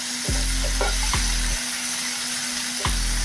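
Mushrooms sizzle and fry in a pan for chilli mushroom while a utensil stirs them, leaving a steady crackling hiss broken by a few sharp scraping knocks, close and fairly loud with no talking.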